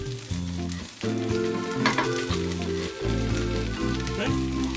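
Frozen home fried potatoes sizzling in a pan with sausage, a loud steady crackling fry up close with a few stirring scrapes and no talk over it.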